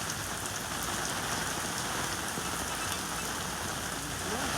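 Steady rain falls outside a wet workshop while work goes on around a car's motor mount, a dense, even patter of drops on surfaces with no voices over it.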